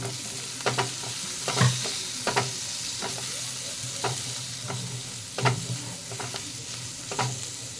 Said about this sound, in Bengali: দিয়ে এটাও ভালো করে নাড়িয়ে নেব